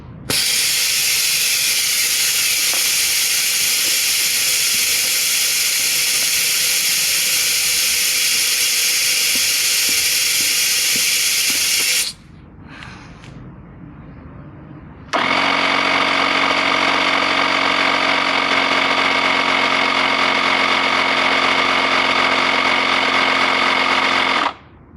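An Audew emergency air compressor runs while inflating a car tire, a loud, steady, close mechanical buzz with a hissing edge that stops for a few seconds, then starts again and runs on.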